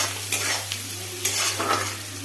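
Onion with slit green chillies fries in a pan for a chicken dish, giving a steady, close sizzle with a few soft stirring scrapes over a low constant hum.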